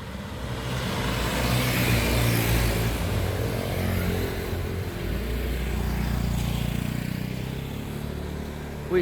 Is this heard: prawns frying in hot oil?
no